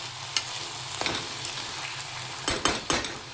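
Tomato pieces fry and sizzle with brinjal in a pan, a close steady hiss broken by sharp scrapes and clinks of a spoon stirring against the metal, several quick taps near the end.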